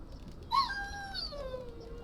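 A dog in a video game lets out a single drawn-out whimpering whine that slides downward in pitch, fairly faint over a low background hum.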